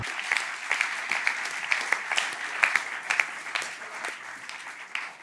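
Applause from a conference audience at a radio industry event in a French-speaking setting, a dense steady patter of many hands clapping for several seconds at moderate loudness.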